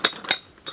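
Drinking glasses from an unwrapped wedding gift clink together, giving two sharp, bright chinks close by and then a fainter rattle.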